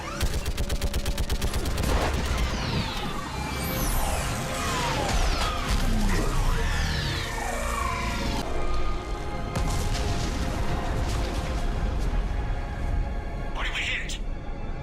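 Rapid gunfire and heavy blasts from a Mass Effect 3 battle on Rannoch, with an orbital strike called in against a live Reaper; dense, continuous shooting with sweeping energy sounds, under shouted dialogue.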